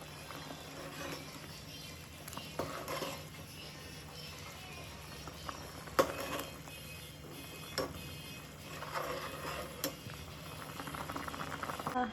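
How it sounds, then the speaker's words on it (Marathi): Satara-style mutton curry boils in a pan, giving a steady bubbling simmer with scattered small ticks and pops for about twelve seconds, with no one talking. "त्याला उकळी आल्यानंतर मग प्रॉपर आपलं सातारी मटण तयार"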